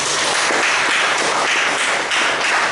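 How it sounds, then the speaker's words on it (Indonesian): A church congregation applauding during a Sunday worship service, a dense, loud, continuous wash of many hands clapping that fills the room without pause. "Tepuk tangan untuk Tuhan."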